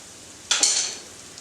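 Mushrooms and garlic drop into a pan of butter and start frying at once: a sudden bright sizzle that swells, then eases into a steady hiss, close and alone.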